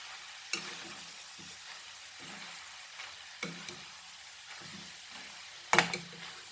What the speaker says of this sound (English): I am basically making dry beef keema, where you can use it in stuffing and all.